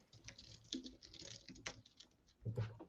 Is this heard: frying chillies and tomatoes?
no